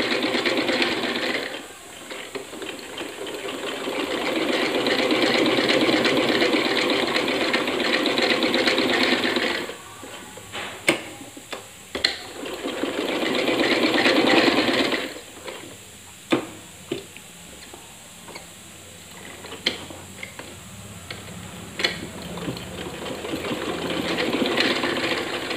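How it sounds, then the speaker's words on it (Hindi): A sewing machine stitches the hem of a salwar leg cuff in long, fast, steady runs, with two extended bursts of whirring separated by pauses and small clicks. The stitching is close and clear, with no talking. "अभी हम नीचे से सिलाई लगाएंगे इसकी।"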